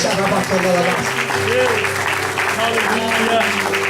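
Church congregation clapping during a worship service: sustained, dense applause throughout, mixed with singing or voices and a low sustained musical tone, fairly loud and even.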